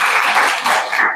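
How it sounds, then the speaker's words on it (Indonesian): A class of students applauding, a short burst of steady, fairly loud clapping from a group. "tepuk tangan untuk kalian semua"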